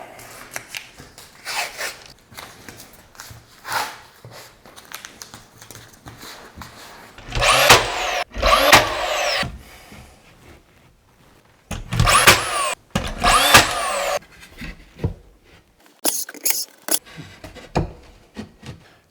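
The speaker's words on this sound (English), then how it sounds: "we want to pre-drill our screws" A power drill with a countersink bit whirs in several short bursts separated by pauses, pre-drilling screw holes in wood, with quiet handling noises in between.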